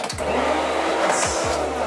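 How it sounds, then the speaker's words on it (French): A standard hair dryer in a hotel suite runs with a steady, loud, close whir, its airflow roaring evenly with a couple of brief shifts in pitch. "Un sèche-cheveux classique"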